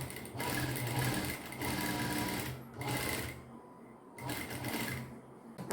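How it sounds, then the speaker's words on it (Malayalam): A sewing machine stitches lining fabric in quick bursts of rapid mechanical whirring, stopping and starting several times at close range. "നമുക്ക് ഇവിടെ നിന്ന് തയ്ക്കാം"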